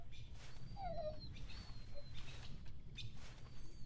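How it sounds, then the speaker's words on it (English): Puppy whimpering in the video game 35MM during a walk through the woods: a short, thin high whine near the one-second mark over a steady low ambient rumble, with faint scattered high chirps. "What's the matter, little puppy? Why are you whimpering?"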